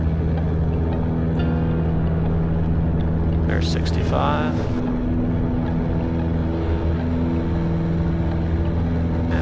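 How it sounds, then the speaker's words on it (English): Aircraft engines drone at full takeoff power, a loud steady low rumble with a constant hum filling the whole cabin while a voice speaks briefly over it. "Increasing power. Full power. Engines in the green."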